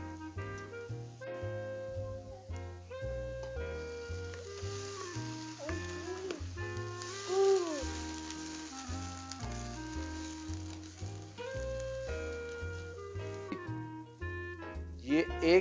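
Spinach sizzles in a pan while palak paneer is cooked, a soft, steady frying hiss sitting low beneath louder background music that runs throughout.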